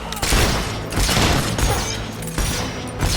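Gunfire from the video game Fable 3, sustained loud bursts of shots and booms filling the scene, with game noise and voices mixed in.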